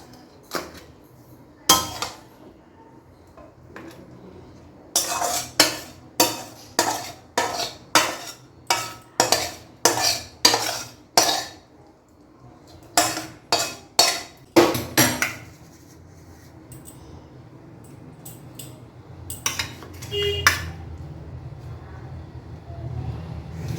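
Spoon scraping and clinking against a pan while soft egg curry is lifted out and served, a run of sharp metallic knocks in steady rhythm, close and fairly loud, with brief quieter stretches and some background hum.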